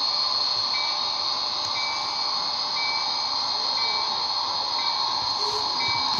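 A model train runs continuously with a steady electric whine and hiss, and faint periodic clicks repeat about once a second along the track.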